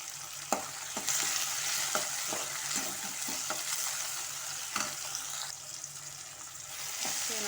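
Curry leaves sauté in a hot pan, a steady close sizzle broken by repeated scraping stirs of a spatula against the metal, with no voices.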